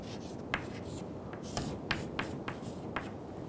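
Pen or marker strokes scratching across paper while an airplane diagram is sketched by hand, a steady rubbing texture broken by several short sharp accents.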